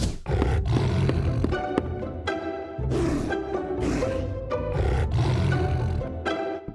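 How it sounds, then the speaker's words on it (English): A tiger roars repeatedly at night, several loud, rough bursts that follow one another closely and fill the whole stretch, with no talking over them. "Look, a tiger."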